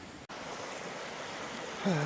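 A steady broadband rush of creek water flowing fills the short clip, close by outdoors, with a brief dropout near the start and a voice starting at the end.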